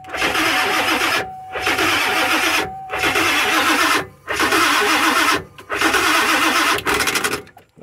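A 7.3 Powerstroke diesel van engine cranks in several long, loud bursts separated by short pauses, with the starter grinding steadily through each attempt.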